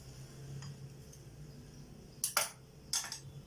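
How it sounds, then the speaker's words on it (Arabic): A utensil clinks against a pan while liver is stirred for sandwiches: a few sharp metallic taps, two clustered and one apart, over a quiet kitchen background. "ونقلب نقلب"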